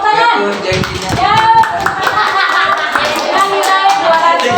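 Classroom clapping from a group of students after group scores are announced, a short burst of hand claps under a teacher's voice and children's chatter.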